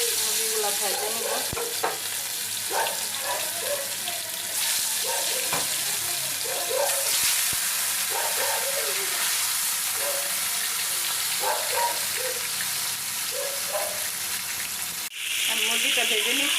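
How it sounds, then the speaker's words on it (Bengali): Chicken pieces fry in a wok on a stove with a loud, continuous sizzle, broken by repeated scraping stirs and the odd clunk of the spatula, heard up close. "কড়াইটা চুলায় দিয়ে দিছি, এখন মুরগিগুলো ভাজে নেব।"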